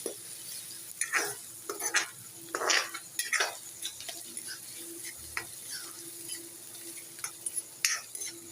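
Crushed garlic and ginger fry and get stirred in a pan as cabbage kofta curry is being cooked, with a soft steady sizzle broken by scraping spoon strokes and clinks against the metal.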